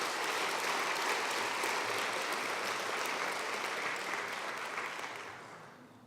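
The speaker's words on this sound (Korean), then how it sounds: "우리 그 청년들을 위해서 박수 한번 크게 보내면 좋겠습니다." A church congregation claps for its young people at a Sunday worship service, a dense, steady wash of applause from many hands that holds strong, then thins and fades away over the last second.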